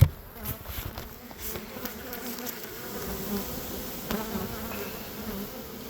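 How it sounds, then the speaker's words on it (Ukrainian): A dense, steady buzz of many honey bees close by, a continuous droning hum with no voices. "Як бачу, бджоли маса"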